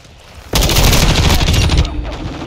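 Loud, dense gunfire bursts in suddenly in Call of Duty Modern Warfare 2 during a Team Deathmatch match on the Shipment map, with rapid overlapping shots that stay close and heavy before easing off.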